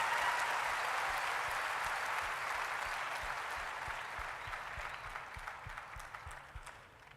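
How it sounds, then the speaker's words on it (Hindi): Loud, sustained applause from a large audience at a Forever Living India Success Day motivational event in Lucknow, a dense wash of clapping that gradually fades toward the end with no talk. "एक बार उसके लिए जोरदार तालियां होनी चाहिए"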